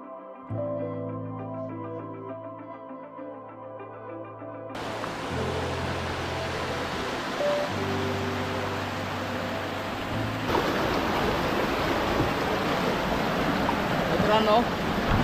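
Nanemachi waterfall's flowing water, a steady broadband roar of rushing water that starts abruptly after a few seconds of soft tonal music, then fills the rest of the clip loud and continuous, swelling slightly near the end.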